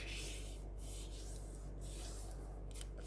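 Paper being folded into envelope sides by hand, a soft continuous rubbing and creasing sound, close and quiet, with faint brushing strokes throughout.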